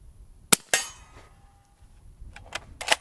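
Subsonic .308 rifle fired through a suppressor at a metal target, heard as a few sharp metallic clanks and cracks spread over a few seconds, fairly close and moderately loud with quiet gaps between.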